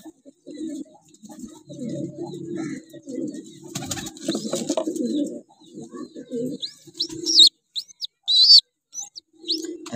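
Pigeons coo in low, soft, repeated phrases, with higher bird chirps breaking in near the end. No one speaks.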